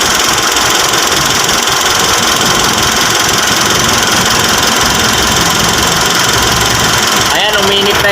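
The engine of a 2019 Mitsubishi Strada 4x4 idles loudly and steadily up close, a constant dense rumble with a slight knocking texture, while a voice speaks briefly near the end.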